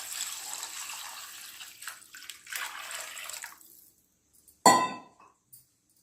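Water poured from a steel tumbler into a cooking pan for Maggi noodles, a faint trickling splash for a few seconds, then a brief sharp metallic clink of the tumbler near the end.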